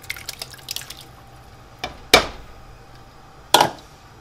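Water mixed with saffron and lemon juice goes into a pot of bouillabaisse fish soup, heard as a few sharp splashes and drips, close and fairly loud, with small liquid patters before them.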